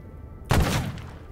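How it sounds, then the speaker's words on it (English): A single loud gunshot blast in the video game Stalker Gamma on hard mode, a sharp broadband crack with a rumbling tail that fades over about a second. "Who's shooting at me?"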